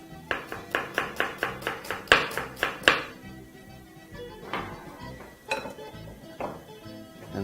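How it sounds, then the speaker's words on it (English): A knife chopping a white onion into half moons on a board: a quick, even series of about a dozen sharp taps, then a pause and a few scattered cuts and knocks. "we're also going to chop up our white onion into half moon sizes"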